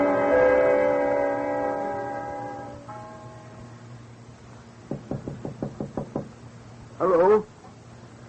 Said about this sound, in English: Somebody knocking?